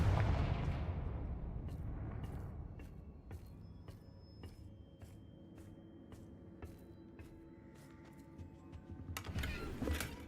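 The Confringo fire spell is cast in Hogwarts Legacy. A loud, booming blast hits at the start and slowly fades, followed by a scatter of light ticks and clicks.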